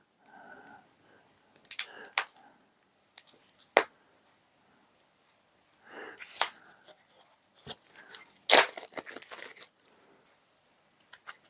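A knife slices through the plastic wrap on a deck of game cards, giving brief crinkling and tearing bursts with sharp snaps between quiet pauses, close up.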